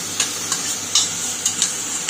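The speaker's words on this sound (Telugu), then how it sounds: "దీన్ని పచ్చివాసన పోయేంత వరకు వేయించుకోవాలి." Mint with turmeric, chili, coriander, garam masala and cumin powders frying in a pan, a steady close sizzle with a few light ticks and scrapes of stirring.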